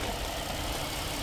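A used car's V6 engine idling with the hood open, a steady dense mechanical hum and rumble, close and continuous without pauses, no talking over it.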